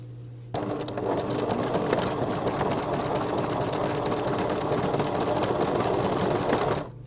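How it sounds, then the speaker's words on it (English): A sewing machine runs steadily, stitching across the top of a seam on a cotton sun dress, starting abruptly after a brief pause and humming with a fast, even mechanical whir close by for several seconds. "sew across the top so that we get a really neat finish"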